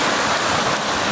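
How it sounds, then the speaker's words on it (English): Floodwater waves crash and churn in a continuous, loud, broadband roar after flooding in New Mexico, with no voices. "These waves happen when water crashes into something or when the seafloor has just the right shape."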